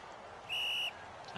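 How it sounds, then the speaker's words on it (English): A referee's whistle in a football game gives one sharp, shrill blast lasting about half a second, clear over a quiet background. "Time to blow the whistle."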